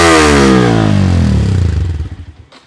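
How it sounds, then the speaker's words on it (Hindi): A Yamaha R15 V3 motorcycle with its dB killer removed gives a loud, close throttle rev that swells, then falls away as the engine drops back toward idle, heard alone. "थ्रोटल पे साउंड आ रही है क्योंकि इसका हमने डीबी किलर निकाल दिया है"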